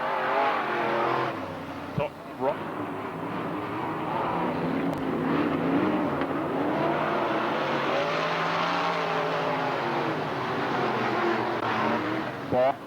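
Race cars roar around Hickory Speedway at a 1996 opening night race, engines droning and swelling continuously under a track announcer's commentary.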